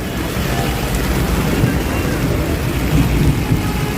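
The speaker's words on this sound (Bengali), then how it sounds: "আবার বজ্রপাতও হচ্ছে।" Heavy rain pours steadily and loudly in an open street during a thunderstorm in Muradpur, with a rushing wash of noise and a low rumble beneath it. Voices can be heard faintly under it.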